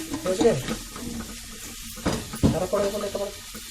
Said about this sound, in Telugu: వాటికనే ఫ్రై చేస్తావు, చికెన్ కీమా కాబట్టి కదా.